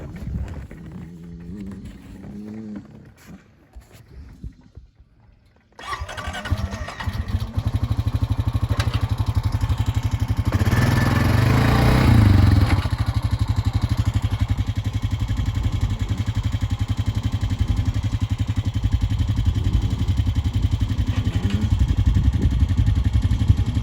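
A 2008 Yamaha YZ85 dirt bike engine starts after a few seconds of quieter handling noise, then runs loudly and steadily up close, with a dense buzzing idle and a brief rise in revs near the middle.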